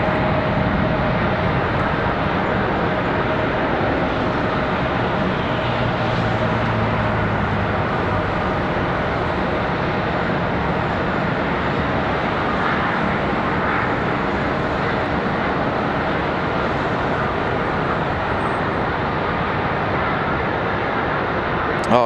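A Spirit Airlines Airbus A321neo at Charlotte Douglas airport sends a steady, fairly distant jet roar across the whole stretch, blended with background traffic-like hum and a faint tonal whine.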